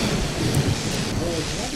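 Lightning in a Garry's Mod zombie apocalypse game: a continuous roaring, crackling rumble like a thunderstorm, loud and close throughout, with a voice faintly audible near the end.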